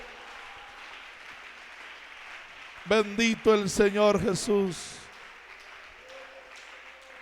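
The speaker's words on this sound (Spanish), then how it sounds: "Aplauda su nombre, aplauda su nombre." Church congregation clapping during a Spanish-language worship service, a short burst of rhythmic clapping and voices mid-clip, with someone speaking over it and quieter talk before and after.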